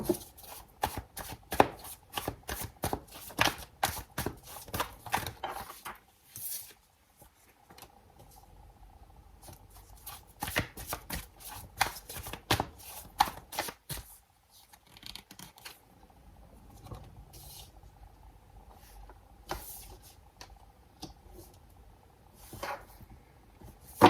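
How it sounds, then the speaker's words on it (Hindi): Tarot cards are shuffled in quick, crisp riffling bursts, close and clear, pausing briefly between rounds with soft handling noises in the gaps. "कार्ड हमने खूब शफल किए हैं, आपके सामने किए हैं"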